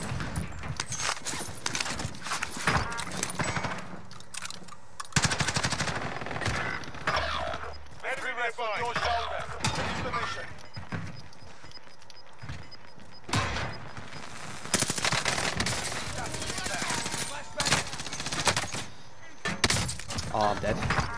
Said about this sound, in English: Getting shot in the back, hold on.